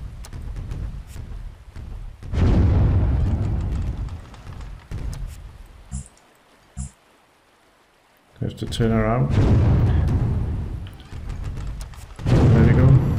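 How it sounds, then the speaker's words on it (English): Ship cannons in the pirate naval game Windward fire in several heavy rumbling booming bursts, separated by quiet gaps, while someone talks over parts of the action. "So the cannons fire automatically except for the V."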